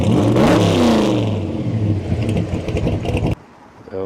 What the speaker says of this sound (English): any gearhead just gets excited when you hear that rumble coming